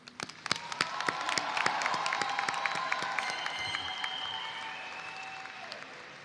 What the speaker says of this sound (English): I'd like to give us a round of applause